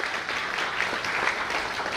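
Audience clapping at a 60th birthday celebration in Madhavnagar, a dense steady patter of many hands lasting throughout, moderately loud and fairly close, with no one speaking over it.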